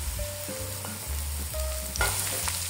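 Capsicum sizzling and frying in a hot pan with onions and carrots for chicken chow mein, a steady loud crackle with brief stirring scrapes and a sharper burst of sizzle as the pieces go in.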